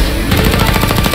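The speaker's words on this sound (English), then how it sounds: "A minigun?" A minigun in the Mafia video game fires a loud, dense, continuous rapid burst of gunfire that fills the short moment.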